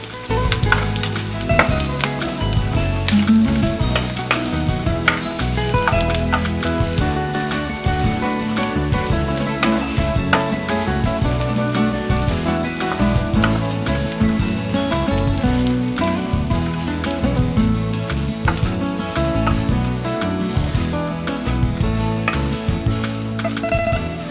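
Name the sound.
frying anchovies (dilis) in a pan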